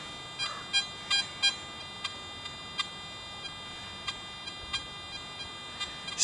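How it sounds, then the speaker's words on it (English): A Garrett AT Max metal detector with a 9x12 concentric coil gives short, evenly spaced beeps as a gold ring passes in an air test, each beep brief, clean and fairly faint. "We're still getting a nice solid beep with that."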